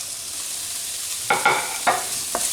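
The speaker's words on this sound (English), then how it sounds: "You're gonna put the olive oil into the heat up pan, and then you're gonna add onion and garlic." Onion and garlic frying in olive oil in a hot pan give a steady sizzle, with a few louder stirring scrapes and clatters near the end, close and with no talk.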